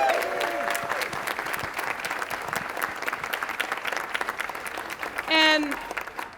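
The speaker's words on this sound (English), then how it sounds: "Let's give Cleve Jones another round of applause." A crowd applauds Cleve Jones at an event for an LGBTQ history museum, with steady moderate clapping throughout and a brief tonal sound near the end.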